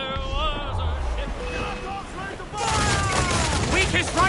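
Booming cannon blasts and gunfire erupt over wind, waves and shouting voices in a loud naval battle scene from Assassin's Creed Black Flag.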